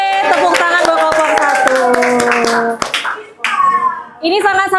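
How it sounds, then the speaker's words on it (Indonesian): A classroom of students claps for a student group, sharp rhythmic hand claps mixed with children's chattering voices, with a brief lull before the clapping resumes. "tepuk tangan buat kelompok"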